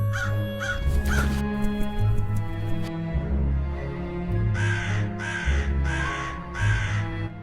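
Several crows caw loudly in repeated bursts, first near the start and again in a steady rhythm of four calls toward the end, agitated by a man in a mask, with a low rumbling background throughout.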